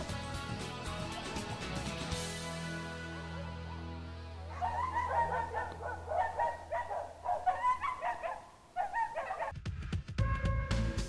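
A Laika hunting dog barking in short, repeated bursts with some yelps, mid-distance outdoors, following a stretch of steady background drone.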